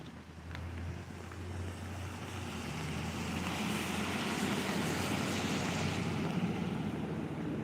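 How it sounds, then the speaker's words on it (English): Running creek water makes a steady broadband rush that builds a little louder over several seconds, continuous and fairly close, with no voices over it. "The creek just keeps running."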